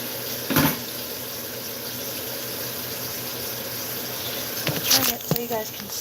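A kitchen water tap runs steadily at the sink while dishes are washed, a continuous moderate hiss with a few clinks and bumps; speech is heard.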